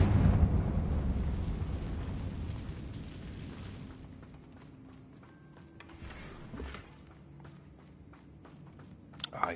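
A Confringo fire spell explodes in Hogwarts Legacy with a loud, roaring burst that fades over about four seconds, followed by quieter scattered knocks and footsteps.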